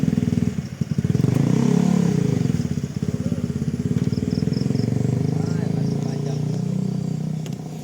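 A Honda motorcycle engine runs steadily close by in flood-damaged Aceh Tamiang, its low rumble holding throughout with slight rises in revs, while voices talk faintly underneath.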